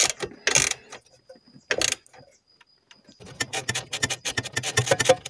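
A hand ratchet tightens bolts and nuts on an Alfa Romeo MiTo, first in a few isolated clicking bursts, then in a rapid run of close, crisp ratcheting clicks.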